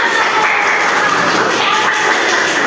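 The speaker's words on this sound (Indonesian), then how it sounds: "Ya, beri tepuk tangan." Classroom of students applauds the best group, a loud, continuous wash of clapping that stays even throughout, with no talk.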